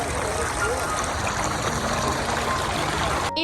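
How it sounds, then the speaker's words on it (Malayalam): Water flows steadily between small rocks in a man-made stream at Katara Hills, Qatar, a close, continuous rushing and gurgling that cuts off abruptly at the end. "ഇതുപോലെ ചെറിയ ചെറിയ പാറക്കെട്ടുകൾക്കിടയിലൂടെ വെള്ളം ഇങ്ങനെ ഒഴുകി വരുന്നത് കാണാൻ തന്നെ ഒരു പ്രത്യേക ഭംഗിയാണ് കേട്ടോ"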